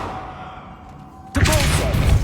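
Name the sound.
Revelio spell cast in Hogwarts Legacy video game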